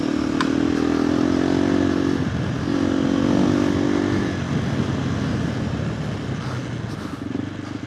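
A KTM 390 Adventure R motorcycle fitted with a Norifumi Whoops exhaust runs with a steady, throaty engine note that rises and eases between revs, heard close and loud with some wind and clatter.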